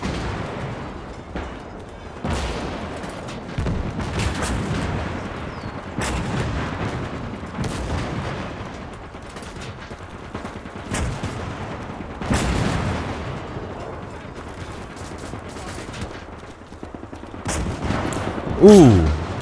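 Flak 88 anti-aircraft guns in the Gates of Hell game pound away at Soviet T-34 tanks, heavy booming shots landing every couple of seconds over a continuous battle din, with a sharper close blast near the end.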